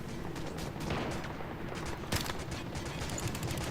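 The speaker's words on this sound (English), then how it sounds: "You got a lot of people shooting at you" Gunfire in the video game Once Human comes from several shooters as a continuous rumbling fusillade with scattered sharper shots, fairly faint and without voices.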